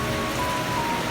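Steady rain patters on a tent in a backyard camping setup, a dense, even hiss of drops with no voices over it.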